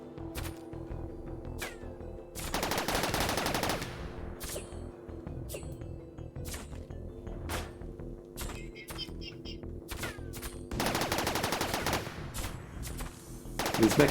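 Gunfire in a video game battle with mechs, bursts of rapid automatic fire and scattered single shots, with two long loud volleys standing out amid ongoing game noise and faint talk.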